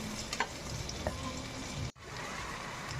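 Onion frying in ghee in a pan (kadai) while cooking mutton kala bhuna: a steady, dense, close sizzle with faint crackles, uninterrupted except for a brief dropout near the end.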